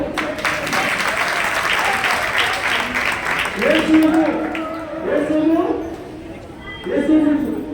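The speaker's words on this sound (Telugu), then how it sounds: "శ్రీరామ్ వెంకటేష్ గట్టిగా చప్పట్లు" A crowd claps loudly and steadily at a gathering, with voices speaking over the applause and breaking through it in later bursts.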